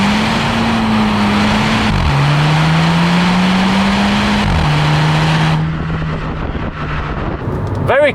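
A VW Golf GTI MK5 with a manual gearbox accelerates hard through the gears. The engine note climbs, drops sharply at each quick upshift and climbs again. It stays loud and close throughout, then a brief rev rings out at the end.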